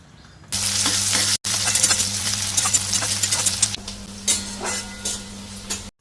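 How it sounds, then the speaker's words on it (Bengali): Chopped onion hits hot oil in a pan for paneer pulao, bursting into a loud close sizzle with stirring clatter, then settling into a lighter frying crackle with occasional spoon scrapes. "দিয়ে এবার একটু তেলের মধ্যে ভাজা করে নেব পেঁয়াজটা।"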